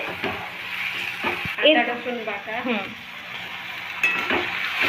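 A spoon stirs and mixes egg curry masala with onion paste and salt in a frying pan, with soft scraping and clinks over a low sizzle, while a voice speaks near the middle.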